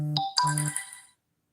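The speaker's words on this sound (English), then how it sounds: "my phone is just going off like crazy" A mobile phone ringtone plays a short two-note electronic chime, bright and clear, then fades to silence.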